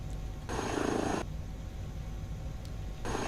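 An Airbus H160 helicopter in Microsoft Flight Simulator drones steadily with a low rotor hum, swelling louder in two short bursts at the start and end.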